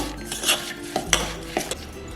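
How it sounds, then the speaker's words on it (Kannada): Metal utensil clinks and scrapes against a steel pot in a few sharp, irregular strokes, mixing a kadubu filling with jaggery and cardamom powder, close up, with no talking. "ಚೆನ್ನಾಗಿ ಕಲಿಸ್ಕೋಬೇಕು"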